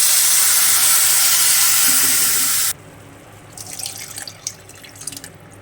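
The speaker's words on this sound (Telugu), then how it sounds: "ఇప్పుడు ఇందులో 2 కప్పులు పాలు పోసుకుందాం." Milk pours into a pan of golden-fried vermicelli with a loud rushing sizzle for a few seconds, which cuts off abruptly into softer, scattered bubbling and crackling.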